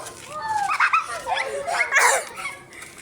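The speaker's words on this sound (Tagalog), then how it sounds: "Grabe yung aso. Narinig niyo yung aso?" Several short dog yelps and barks, fairly close, mixed with people talking and commotion.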